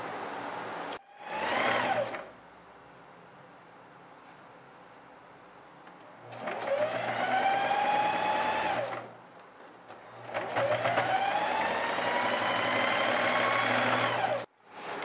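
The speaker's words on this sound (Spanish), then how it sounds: "También en el orillo realizaremos un overlock." An overlock sewing machine stitches the crotch seam of a red star-print outfit in three separate runs: a short burst, then two longer whirring stretches that rise to speed and stop, with quiet pauses between them.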